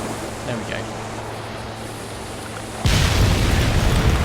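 Explosion set off from a flare in the indie horror video game Daylight, a sudden loud broadband blast that swells and rumbles on after a quiet stretch of faint room tone.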